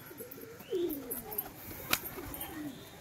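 Pigeons cooing outdoors during rain, a few soft low coos rising and falling at moderate distance, with a sharp brief click partway through.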